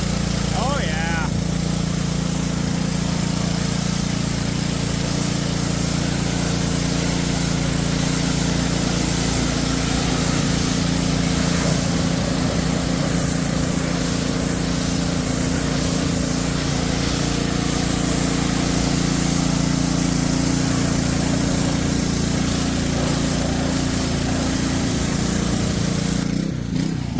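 Lawn mower engine running after a carburetor cleaning, still surging slightly: a loud, continuous, close-up motor hum with a broad noisy hiss that holds steady for the whole stretch, with someone talking over it.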